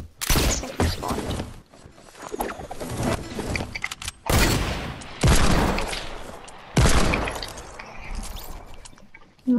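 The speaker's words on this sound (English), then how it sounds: "hunting rifle, no scope headshot" Hunting rifle gunshots in the video game Fortnite: several loud, sharp cracks spaced a few seconds apart, each with a short echoing tail, among busy game effects.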